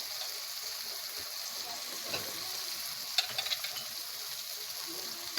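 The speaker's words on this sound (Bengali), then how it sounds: "ভালো করে কষিয়ে নেব।" Spices stir-fried together in a pan for a curry, a faint continuous frying hiss with a few brief scraping knocks of a utensil partway through.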